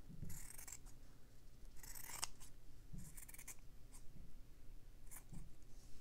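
Scissors cut a rounded triangle shape out of fabric for slow stitching, with a few quiet, close snips and crisp slicing sounds spread over several seconds and no talking.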